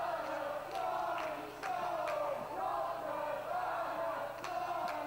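Wrestling crowd at a live independent show, a steady mid-distance roar of fans chanting and cheering in rising and falling waves, with a few sharp claps or slaps cutting through.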